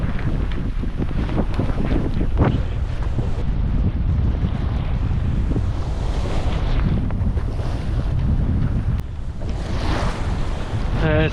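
Steady wind and breaking waves rush around a long-keeled sailing boat at sea on the Baltic passage, with constant loud wind buffeting the microphone throughout and no talking.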